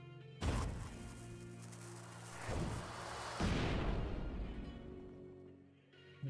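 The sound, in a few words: explosion in a video game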